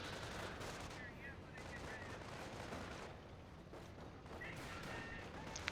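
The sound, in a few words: sector artillery fire in the video game Company of Heroes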